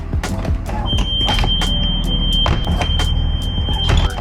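School bus emergency exit alarm sounds as a steady, piercing high electronic tone held for several seconds, with clunks and knocks of the door and bus around it.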